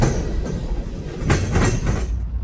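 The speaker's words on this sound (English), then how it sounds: "and it was pretty long for a NS stack train." A long Norfolk Southern intermodal stack train rolls past close by, a loud continuous rumble with rhythmic clickety-clack of wheels over rail joints and no voices.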